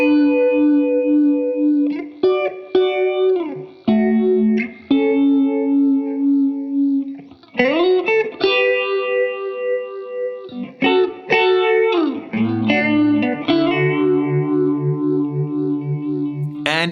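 An electric guitar runs through an MXR Phase 100 phaser set to a faster Mode 3, noodling melodic phrases with a sweeping, swirling tone that stays steady and prominent.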